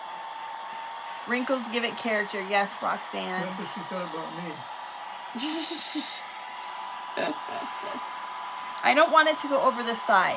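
A handheld hair dryer blows steadily for under a second while drying glued book paper for a vintage Santa Christmas decoration craft, with someone talking before and after.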